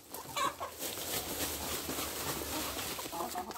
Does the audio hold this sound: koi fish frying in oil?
no